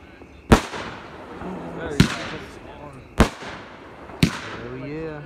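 Honey Badger, a 7-shot World Class 200g firework cake, fires sharp booming shots with crackling tails in an uneven rhythm, four clear bursts close together, with faint voices between them.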